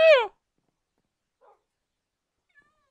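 A dog in the Minecraft video game lets out one short, clear whine or bark at the start, followed by two tiny faint blips and otherwise silence.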